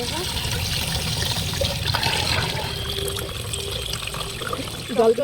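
Water runs steadily while small fish are washed for a Bengali small-fish curry, a continuous splashing trickle from near a tap that continues the whole time, with brief clatter near the end and faint talk in the background.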